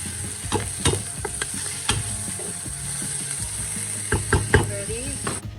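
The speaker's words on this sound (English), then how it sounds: "After sauteing the onion, garlic, and ginger, then I added the squash and bitter melon." Onion, garlic and ginger sauté with squash and bitter melon for pinakbet, a steady close sizzle under repeated scrapes and clacks of a utensil stirring the pan, with no voices.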